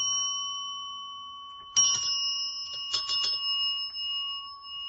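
A bright electronic chime rings out in two quick bursts over a sustained tone, clean and close, like a notification sound effect.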